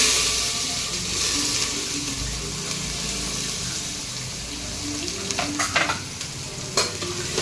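Chopped onion fried with bay leaves, cumin and asafoetida for a rural mutton dish, giving a steady close sizzle with stirring scrapes and a few sharper clicks near the end, no voices.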